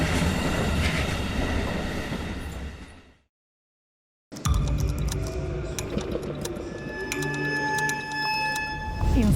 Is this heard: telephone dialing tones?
no